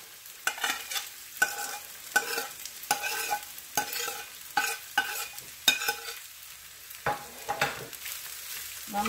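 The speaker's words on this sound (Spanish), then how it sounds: "Vamos a sofreírlo primero, antes de agregar los frijoles." Rice sautés in a pan for Costa Rican gallo pinto, a soft sizzle under frequent sharp spoon scrapes and stirring clicks, close and fairly quiet, with no voices.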